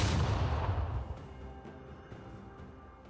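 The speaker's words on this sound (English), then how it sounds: "Blue team's turret has been destroyed." A turret is destroyed in League of Legends, giving a loud, booming blast that starts at full strength and rumbles away over about three seconds, with no talking.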